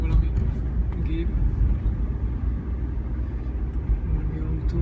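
A car rolls past with a low, rumbling engine and road noise, a steady heavy drone with no clear build or fade, under a constant layer of background noise.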